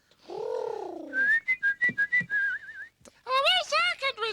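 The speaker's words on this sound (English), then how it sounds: "could you whistle a little more softly? It's putting me off." Someone whistles a quick run of short rising notes followed by a wavering trilled phrase, close and fairly loud, after a low hummed or voiced tone, with a brief pause before a final burst of warbling whistles.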